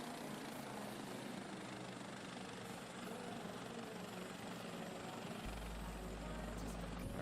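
A Bell 412 helicopter idles in the X-Plane 11 flight simulator, producing a steady, loud rotor and turbine drone that holds unchanged throughout with a deep rumble near the end.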